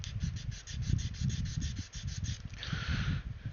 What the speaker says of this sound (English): I need to get a smaller sanding stick on that